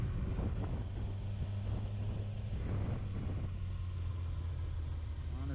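A Kawasaki ZX6R motorcycle ridden around town, its engine a steady low drone under wind rumble, with faint shifts as gears change.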